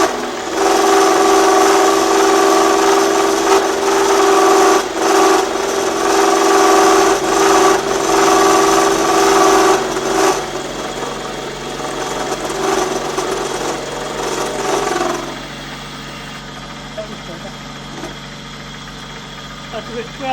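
A David Brown 996 tractor engine runs steadily at about 1200 RPM, a loud, continuous idle hum with a knocking rhythm that eases slightly later on, while a person talks over it.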